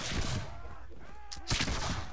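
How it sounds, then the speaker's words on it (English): A crew's musket volley in the pirate video game Caribbean!, heard as a dense, crackling spread of gunfire with a louder burst partway through and no clear speech. "Open fire, lads."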